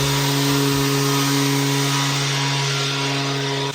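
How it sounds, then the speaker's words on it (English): A power sander works a wooden butcher block countertop, giving a loud, steady, unbroken whir with a constant motor hum that holds at the same level throughout. "So we're gonna have to sand that puppy out. Sand with the grain, not against the grain, with the grain."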